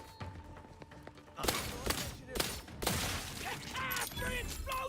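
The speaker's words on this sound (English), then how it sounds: "Free explosion for you!" Combat explosions in the video game The Outer Worlds 2: loud, sharp blasts and bursts of gunfire with rumbling tails, coming in quick clusters after a quieter start.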